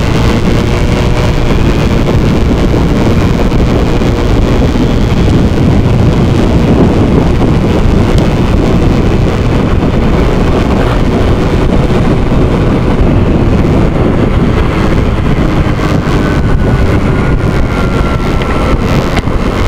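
A motorcycle being ridden, steady engine drone buried under heavy, continuous wind roar buffeting the microphone, loud throughout with no pauses.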